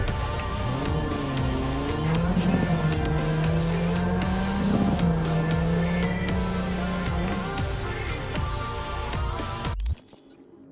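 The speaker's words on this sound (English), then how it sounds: "I didn't mean to call this car, but" A summoned car arrives in the video game Cyberpunk 2077. The engine hums and revs loudly, tires squeal in long wavering whines, and the sound then cuts off abruptly near the end.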